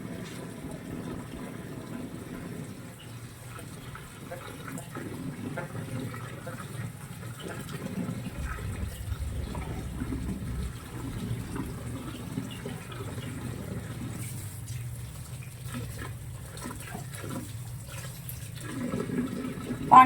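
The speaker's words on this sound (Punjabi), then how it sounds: "ਖੁੱਲੇ ਪਾਣੀ 'ਚ ਚੰਗੀ ਤਰ੍ਹਾਂ ਇਹਨੂੰ ਧੋਣਾ।" Saag greens are rinsed under running water in a village kitchen: a steady splashing flow continues throughout with a low rumble. No one speaks.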